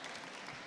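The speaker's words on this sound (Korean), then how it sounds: "여러분 큰 박수 부탁드리겠습니다." Audience applause at a public-service job fair recruitment briefing, a soft, even patter of many hands clapping, faint and steady for under a second.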